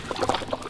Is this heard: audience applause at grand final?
no